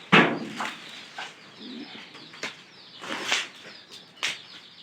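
A domestic pigeon in its new coop gives soft, low cooing calls between several short bursts of wing flapping, close to the microphone in a quiet space.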